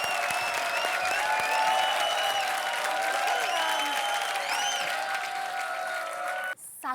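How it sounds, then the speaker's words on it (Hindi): Sustained applause from a large comedy-show studio audience, loud and steady throughout, ending in a brief pause before a new sound starts. "जोरदार ताली।"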